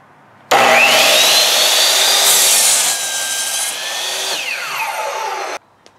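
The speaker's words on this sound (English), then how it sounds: "I drilled a hole in there. This hole, I forgot to mention, was 5 16ths." A power drill bores a 5/16 inch hole through wood while building the leg support of a relic sifter, a loud steady grinding whine that runs for about five seconds and shifts pitch partway through before cutting off abruptly.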